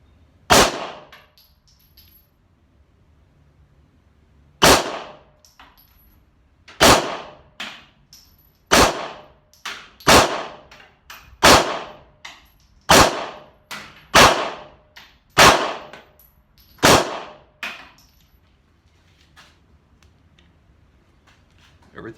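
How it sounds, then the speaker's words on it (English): About a dozen sharp 9mm pistol shots with a Wurkkos WKC06 compact weapon light mounted, fired one at a time outdoors, loud and close with irregular gaps of one to two seconds and no talk. "I'm probably only gonna shoot 10 or 20 rounds of 9mm here total"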